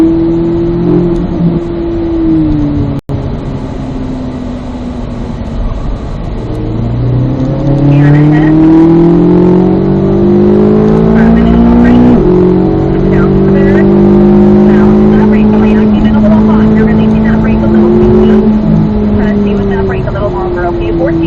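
Car accelerating on a race track during a driving session, engine revving up and climbing in pitch through repeated pulls, loud and close, with occasional voices over the engine.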